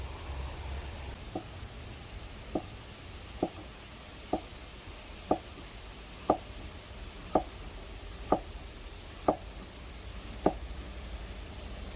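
A knife thinly slicing cabbage on a cutting board for a chicken shawarma salad: about ten evenly spaced sharp chops roughly a second apart, close and clear over a soft steady background hiss.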